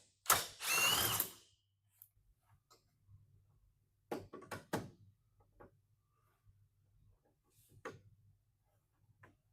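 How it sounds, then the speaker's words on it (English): A ratchet spins out two 13mm bolts on the rear bumper of a 2024 Chevrolet Silverado 1500 Z71, with a long burst followed by short clicking runs and sparse ticks against a quiet hum. "you now have access to remove the two 13mm bolts behind the license plate"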